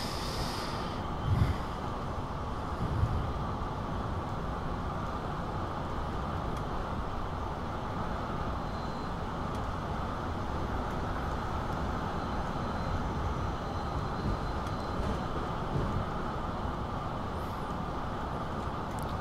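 Regional express train rumbling steadily along the Karlsruhe–Strasbourg line near Baden-Baden in Train Simulator 2022, a continuous loud low running drone with no talk over it.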